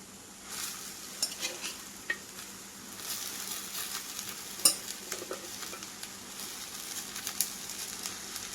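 Spinach stir-frying with turmeric in a thin pan, a low steady sizzle broken by frequent scraping and tapping of a spoon against the metal, fairly close and without talk.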